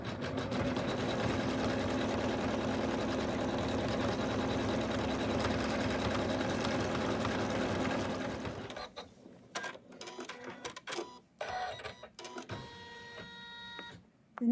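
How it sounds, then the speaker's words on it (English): An embroidery sewing machine stitches out an in-the-hoop snowman stocking with a loud, constant, rapid mechanical chatter for several seconds. The stitching then stops and scattered clicks and clatter follow. "then we're going to stitch out the next color"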